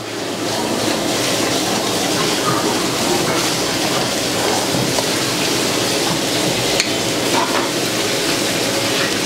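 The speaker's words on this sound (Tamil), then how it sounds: "இஞ்சி பூண்டு பேஸ்ட் போட்டு அதையும் நல்லா கொஞ்சம் ஃப்ரை பண்ணிக்கணும்" Ginger garlic paste fries in a pan with a steady, dense sizzle and faint stirring scrapes while Chettinad chicken curry is being made. The noise is continuous, moderately loud and close.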